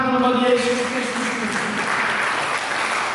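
Church congregation breaks into sustained applause, a dense wash of clapping that swells after a brief voice at the start and carries on steadily, loud and full-sounding.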